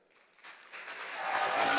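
Applause from a church congregation welcoming a missionary, a former table tennis champion, rising from scattered claps into a broad, steadily swelling wash of clapping.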